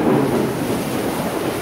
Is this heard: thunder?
yes